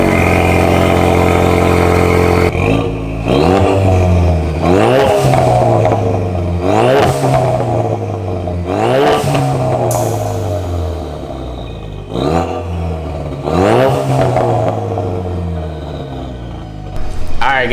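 A car with a catless CV Fab downpipe exhaust revs hard in repeated bursts, each climbing and falling back to a rough idle, loud and close, with about six throttle blips over the span.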